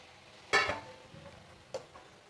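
Fried jackfruit dropped into a pan of cooked-down spices and oil: one sudden loud splash and sizzle that quickly settles into a quieter crackle, followed by a small clink of a utensil.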